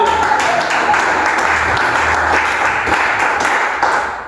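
A church congregation claps together in worship, a steady dense wash of applause with a few louder taps, fairly close and loud throughout.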